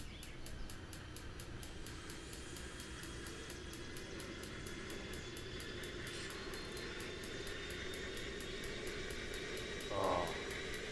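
Helicopter engine starting up in Microsoft Flight Simulator 2024, a faint steady turbine whine and airy rumble building slowly with a soft ticking pulse, distant-sounding and continuous throughout.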